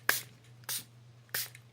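Three short, breathy hisses of setting spray from a bottle, evenly spaced about half a second apart, each a quick airy burst over a faint low hum.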